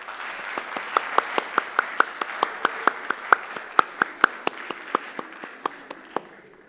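A small audience at a book presentation for a Bach society journal gives scattered applause, a few distinct hand claps landing in a loose, uneven rhythm, fairly quiet and close.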